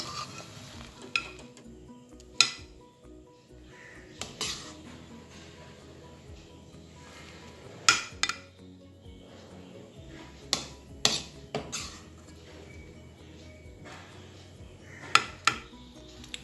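Cooked carrot sweet scooped from a pan into a bowl, with scattered metallic scrapes and sharp clinks of a spoon against cookware at irregular intervals, close and fairly quiet.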